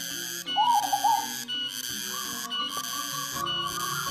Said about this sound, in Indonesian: Dan sungguh kita beruntung di era ini masih dapat melihat perkutut jenis ini.